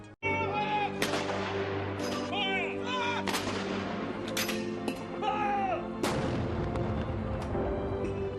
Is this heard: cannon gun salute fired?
yes